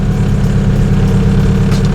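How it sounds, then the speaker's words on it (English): The turbocharged H23A engine of a sixth-generation Honda Accord idles high, a loud, steady and close rumble with an even, unchanging pulse. "Idle's a little bit high, but that's nothing crazy."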